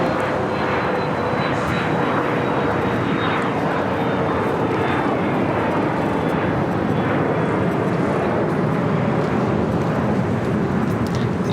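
Lufthansa airliner from Frankfurt at LAX airport, a loud continuous jet roar that holds steady throughout, close by.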